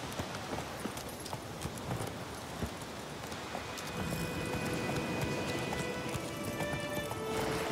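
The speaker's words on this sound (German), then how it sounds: "Pferdchen." Horse hooves clip-clop in The Witcher 3 as a steady run of hoofbeats at moderate level over a busy game soundscape, with a rising tonal hum joining partway through and no one talking.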